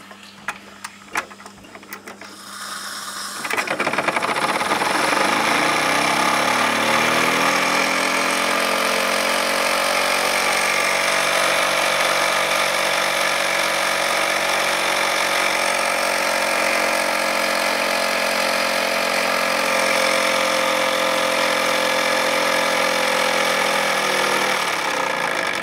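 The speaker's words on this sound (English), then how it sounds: "Well, we'll start the engine." A Wilesco toy steam engine, its boiler at about 2 bar, starts after a few soft clicks and settles into a loud, steady mechanical whir. The whir runs on alone for over twenty seconds before slowing at the end.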